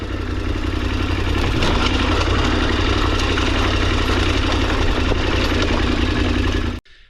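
A KTM 1090 Adventure motorcycle engine runs loud and close with a steady, rough idle and mechanical clatter for several seconds before cutting off abruptly.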